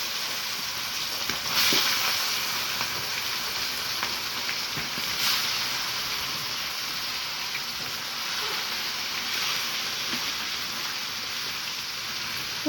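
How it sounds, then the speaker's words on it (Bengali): Pieces of meat coated with turmeric and chili fry in hot oil, giving a steady, soft hiss of sizzling with a few small pops throughout and no talk. "তো গোস্ত ভাজা হোক,"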